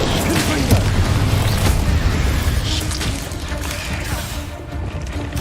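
Spell blasts and explosive booms from a fantasy wizarding action game, a fire spell followed by the Confringo blast spell. The booms and crashes come dense and loud over a busy game soundscape, with voices audible throughout.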